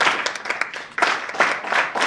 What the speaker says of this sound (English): Can you give her a clap as she comes?